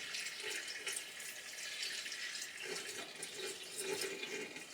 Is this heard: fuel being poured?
yes